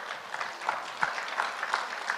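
An audience claps during a sermon in a Korean church, a brief burst of scattered, fairly close applause that soon fades.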